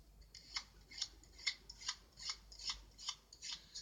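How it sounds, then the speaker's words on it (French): Playing cards are placed one by one onto aces, giving about ten faint, soft swishing slides in a steady rhythm, close and quiet, with no talk. "je vais mettre quelques cartes sur les as"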